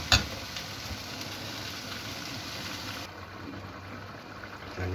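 Hotdog slices frying in a pan for menudo, a steady close sizzle that runs unbroken for the whole stretch with no talking.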